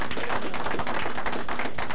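Crowd applause from the 10th Frame bowling game on the Atari ST after a spare: a dense, steady wash of clapping that lasts about two seconds at full level, with no talk over it.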